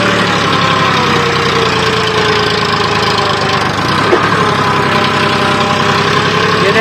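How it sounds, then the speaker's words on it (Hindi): A tractor engine runs steadily while lifting soil to level a field, giving a loud, close, knocking diesel drone with constant vibration and a brief clunk partway through. "ये देखिए दोस्तों ट्रैक्टर मिट्टी देखिए कितनी उठ रही है पीछे पीछे"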